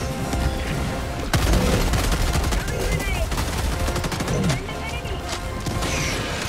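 Cluster bomb explosions in the video game Helldivers 2 boom amid dense, chaotic gunfire in a loud battle, with a voice talking over the din.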